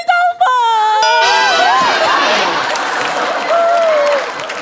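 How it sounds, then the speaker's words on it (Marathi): An audience claps loudly and steadily at a Marathi comedy show award moment, dense applause filling the whole clip with some cheering and whoops mixed in. "तर एकदा जोरदार टाळ्या व्हायला पाहिजेत."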